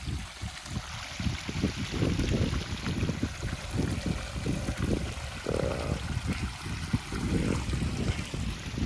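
Water gushing steadily from a borewell motor pump, a close, continuous splashing flow with a rough, churning texture and no voices.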